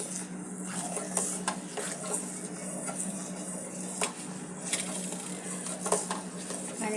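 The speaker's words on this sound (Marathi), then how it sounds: "ही मिल्क पावडर घेतलेली आहे 2 मोठे चमचे, थोडा अजून घट्टपणा येण्यासाठी. आणि पटकन हलवायचं आपल्याला आहे." A spoon stirs basundi, milk thickened with milk powder, in a pot, giving faint scraping and clinking strokes against the metal over a quiet kitchen hum, with no talking.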